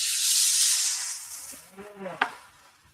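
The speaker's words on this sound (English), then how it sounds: "now I'm gonna hit it with this juice in a really hot pan" Mushroom juice hits a very hot pan with a loud hissing sizzle that fades over a couple of seconds, followed by brief crackles and a sharp clink.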